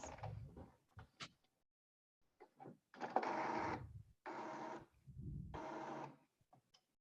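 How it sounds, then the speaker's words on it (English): A printer works in bursts: mechanical whirring passes separated by clicks and pauses, close by and alone in a quiet room. "My printer's trying to print right now"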